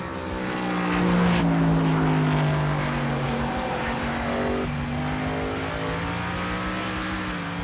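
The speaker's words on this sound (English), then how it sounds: "It absolutely has that classic NASCAR roar" A Gen 4 NASCAR V8 engine roars steadily in the iRacing video game, a loud, continuous droning howl with rising and shifting pitch as the car accelerates, with no talk.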